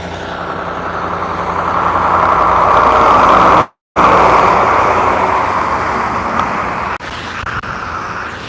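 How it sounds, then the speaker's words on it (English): A white water tank truck passes close by near the main gate of a SpaceX site in Boca Chica, Texas, a loud steady engine and tyre roar that swells and fades over several seconds, with a brief dropout midway. "We got a white water truck coming by."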